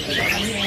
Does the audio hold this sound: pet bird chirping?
yes